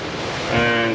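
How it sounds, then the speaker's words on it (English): Water rushes and splashes over the bow of a sailing boat under way, a brief close surge of spray and wind that swells toward the end. "wow, more water over the bow."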